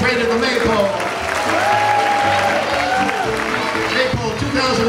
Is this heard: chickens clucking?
no